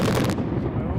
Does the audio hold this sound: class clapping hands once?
no